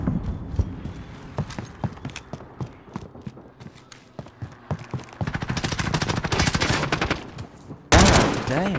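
Rapid automatic MP5 fire in a video game: scattered shots early on build into a dense, sustained burst of cracks, followed by a louder blast at the end.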